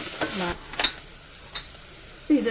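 Chopped green chilies frying in a pan for cauliflower stew, with a soft sizzle, a spatula stirring and scraping, and faint utensil clinks, close and fairly quiet.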